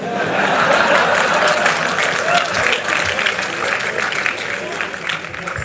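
Audience applause fills a lecture hall during Ankur Warikoo's talk at IIITB Confluence 2025, a steady, dense wash of clapping that holds at an even level throughout.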